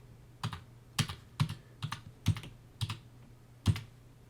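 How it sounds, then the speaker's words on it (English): Close keystrokes on a computer keyboard type in a new name, seven or eight distinct taps spaced irregularly over a few seconds in a quiet room. "Now all I have to do is type in the new name."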